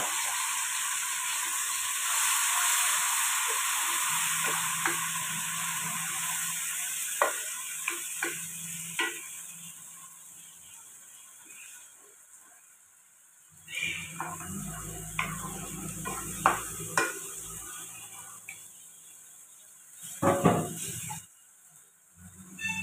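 A paste of onion, ginger, garlic, cashew, Kashmiri chilli and tomato fries in a pan with a steady hiss, broken by scattered ticks and scrapes of stirring, the sizzle flaring up again after a quieter stretch.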